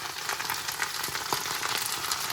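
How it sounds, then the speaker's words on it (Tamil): Moringa (drumstick) leaves with salt fry in a pan, giving a steady, close crackling sizzle with small pops throughout. No one talks. "இப்போ முருங்கை இலையை போடுறேன்"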